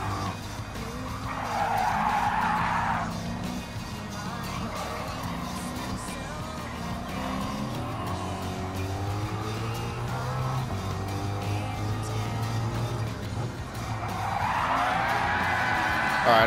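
Tires squeal as a car skids under the e-brake in a racing video game, the screech rising at the start and again near the end over a steady engine drone that runs throughout the race.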